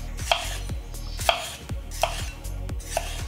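A Ninja Foodi NeverDull steak knife cuts through food on a board in a regular sawing rhythm, with four crisp, close taps as the blade strikes the board and quieter slicing strokes between them.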